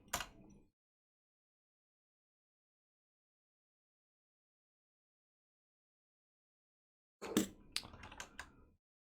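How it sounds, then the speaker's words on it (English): Keys clack on a computer keyboard at close range: a brief burst at the start, a long silence, then a quick flurry of keystrokes near the end. "I press the A on my keyboard."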